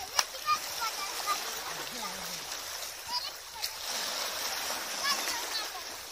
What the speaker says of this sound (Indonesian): Sudah, keras ombak.